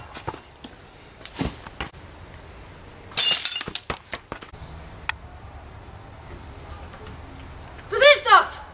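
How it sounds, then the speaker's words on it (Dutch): Window glass shattering after a hard-thrown basketball hits it: a loud crash of breaking glass, then scattered tinkling pieces and a later brief clinking, amid talking and light background noise. "Ik hoor allemaal glas."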